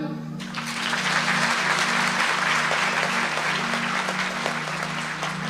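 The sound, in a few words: audience applause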